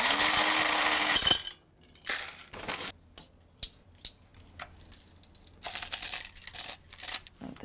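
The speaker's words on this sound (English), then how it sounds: "basically, I use the KitchenAid grinder." KitchenAid grinder grinding dried placenta, a loud whirring burst that cuts off abruptly, followed by scattered clicks, knocks and rattling handling noises.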